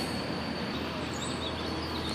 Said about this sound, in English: Go train coming. I'm guessing it's a Stouffville Express